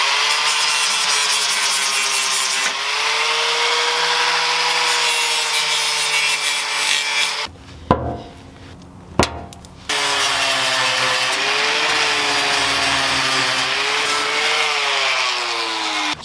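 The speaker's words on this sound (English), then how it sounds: "I'm going to go ahead and grind this down, especially this adhesive for the trim." Angle grinder working over a car body panel to strip trim adhesive, a loud steady grinding whine that runs continuously, breaks off briefly with a couple of sharp clacks, then resumes at full strength.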